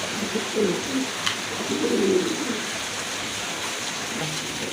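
Maltese pigeons coo in low, soft bursts close by, a couple of rolling calls over a faint steady background hiss.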